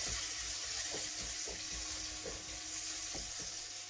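Fermented black beans fry in chilli oil in a pan, a steady close sizzle broken by a few soft stirring knocks, no talk.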